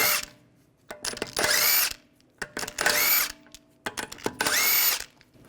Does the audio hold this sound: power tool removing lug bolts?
yes